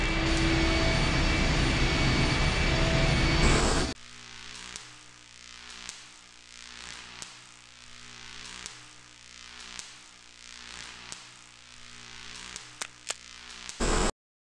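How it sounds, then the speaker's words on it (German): Engine running again in the video game I Have No Mouth and I Must Scream: after a loud burst, a steady mechanical hum with rhythmic pulsing throbs repeats about every second, ending abruptly. "Der Motor läuft wieder."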